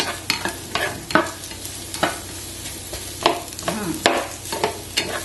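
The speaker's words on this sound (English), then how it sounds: "Then add the onions and the garlic. Saute for a minute or so, or until the aroma comes out." Onions and garlic sautéing in a pan for a mushroom stir fry, a close steady sizzle broken by frequent scraping stirs and clinks of a utensil against the pan.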